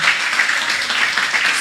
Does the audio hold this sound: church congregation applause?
yes